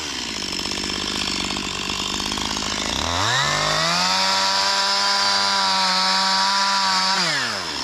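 A close, loud chainsaw runs steadily while cutting dead standing trees, its engine note dropping and then holding lower under load before revving back up near the end.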